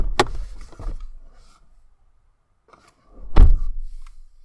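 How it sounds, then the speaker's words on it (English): A car door in the video game Petscop opens and then shuts: two separate sharp thuds, the first at the start and a heavier one a few seconds later, with near silence between them. "we hear the sound of a car door opening and then shutting"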